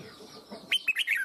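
A red-whiskered bulbul (chào mào) gives a short burst of bright, loud chirping notes, three or four quick phrases near the end of a brief moment over a quiet background.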